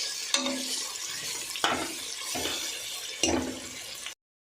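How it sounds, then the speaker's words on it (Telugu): Tomatoes and ginger-garlic paste fry in hot oil for a rajma pulao. A continuous loud sizzle runs throughout, broken by three scraping stirs of a spoon against the pan, before the sound cuts off abruptly. "అల్లం వెల్లుల్లి పేస్ట్ పచ్చి వాసన పోయేదాకా మంచిగా ఆయిల్లో ఫ్రై చేసుకోండి"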